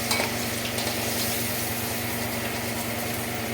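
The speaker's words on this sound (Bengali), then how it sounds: "আর এদিকে আমার আগে থেকে মাছ কিছুটা ভাজা হয়ে গেছে।" Fish or prawns frying in hot oil in a pan while making prawn malai curry, a steady close-up sizzle and crackle that runs unbroken for the whole stretch with no talking.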